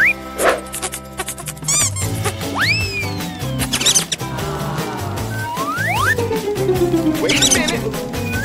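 Mouse squeaks in the middle of a comic prank scene: several short high chirps and rising-falling squeals, close and fairly loud, scattered among clattering and rustling noises.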